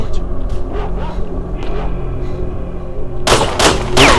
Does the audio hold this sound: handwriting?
no